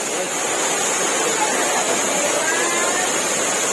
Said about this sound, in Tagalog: Napakalakas ng agos ng danom.